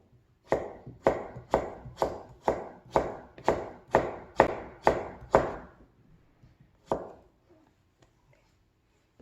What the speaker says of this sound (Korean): 이 당근 20g을 한번 썰어 볼게요